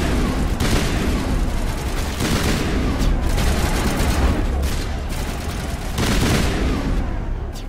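Sustained heavy gunfire in Mass Effect on Feros, a dense fusillade of overlapping shots and bursts that continues loud and unbroken throughout, with faint voices partly buried beneath.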